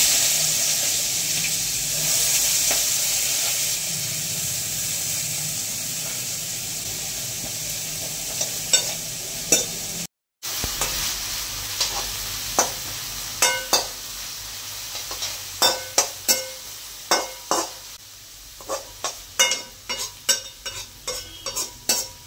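Onions frying in oil in a kadai. A continuous sizzle runs underneath, and from midway a series of sharp clinking scrapes from stirring turns quicker and louder toward the end.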